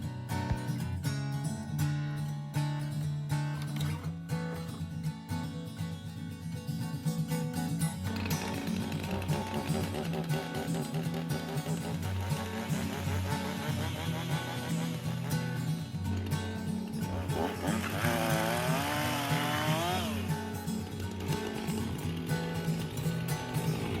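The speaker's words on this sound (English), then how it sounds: "This is where that trusty chainsaw comes in hand." A chainsaw engine drones steadily and close, its pitch rising and wavering as it bites into a fallen tree in the woods.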